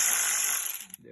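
A ratchet loosening hex bolts on a BMW Z4 E85 engine: a close, rapid run of clicks from the pawl that slows and ends with a few final clicks, with no voices.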